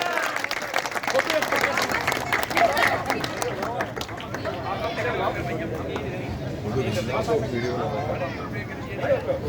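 Villagers at a Holi song gathering clap in a steady, moderately loud wash of applause, mixed with crowd murmur and chatter throughout.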